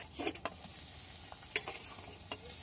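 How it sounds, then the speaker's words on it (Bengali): Tomato stirred into spices frying in oil for a katla fish kalia, a steady soft sizzle broken by a few sharp spoon taps and scrapes, fairly quiet and close. "মশলাগুলো তেল ছেড়ে দিয়েছে, এবার টমেটোটা দিয়ে দেবো।"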